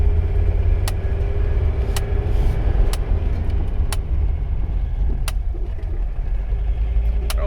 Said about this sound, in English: I'm gonna put this locker in first and see how high I can get the RPM going.